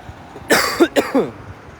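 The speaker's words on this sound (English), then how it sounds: "if you hearing me coughing" While out driving, a person gives a short run of three or four raspy, close coughs, loud and clear over faint background noise.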